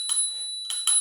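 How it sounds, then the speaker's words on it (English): Two quick rings from the bell on a Turboant X7 Pro electric scooter, a bright, very high-pitched clicker-style ding, close and clear with no talk over it. "So we do have a bell, and I've got to say it, it's a nice bell"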